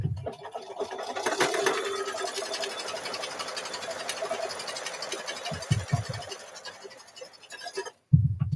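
An embroidery sewing machine stitches a baby bib held in the hoop, a fast, steady mechanical whir with rapid needle chatter running close and loud for several seconds before stopping briefly.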